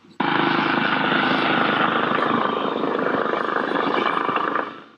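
A helicopter roars close by, a loud continuous rotor and engine drone that holds steady for several seconds before cutting off.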